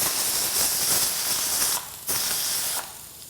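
A pressure cooker whistling as it releases steam while cooking dal, a loud continuous hiss that briefly drops and surges again before easing off, with no talk.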